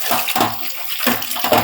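Running water splashes in uneven bursts as about a kilogram of ripe sour tomatoes is rinsed under a tap, close and moderately loud.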